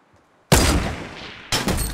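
Two sharp bolt-action sniper rifle shots in Fortnite Battle Royale, each a sudden loud crack followed by a brief decaying tail, about a second apart, close and with no voices.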